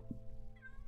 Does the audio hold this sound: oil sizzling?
no